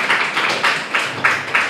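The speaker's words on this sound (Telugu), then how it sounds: "చప్పట్లు కొట్టింది." A church congregation claps during a sermon, with six evenly spaced bursts of hands coming in a steady rhythm, close and fairly loud, and no voices over them.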